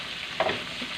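Chicken neck adobo with mushrooms gets a brief stir in a frying pan, a quick scrape of the spoon over a steady close sizzle, with no talking.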